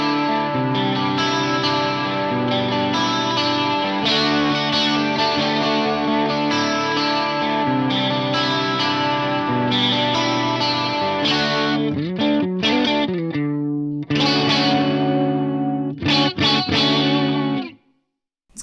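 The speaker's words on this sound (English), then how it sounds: "Let's start with, there's a dual chorus." An electric guitar plays through a Quad Cortex dual chorus effect, sounding thick and shimmering with sustained chords and melodic runs. The playing continues loudly before ending in a few choppy stabs and cutting out.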